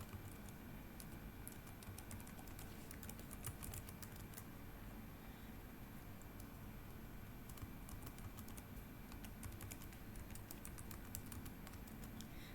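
A password is typed on a computer keyboard, giving faint, irregular runs of light key clicks over a low steady background hum, with no talking.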